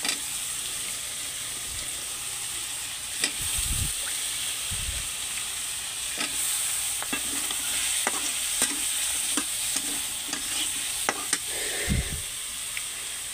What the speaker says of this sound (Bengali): কচুর গাঁটিটা দিয়ে অবশ্যই খুব ভালোভাবে নেড়ে চেড়ে নিতে হবে।